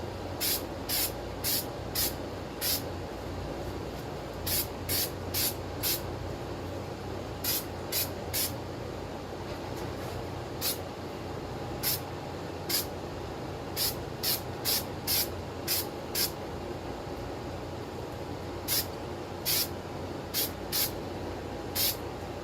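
Short hissing bursts of a spray can laying down a light first coat of paint, repeated in irregular quick pulses over a steady low background hum, close and fairly quiet.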